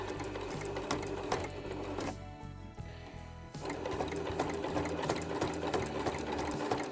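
A sewing machine stitches fabric in the ditch on a log cabin mug rug, whirring steadily and close, with a brief pause in the middle before it resumes running.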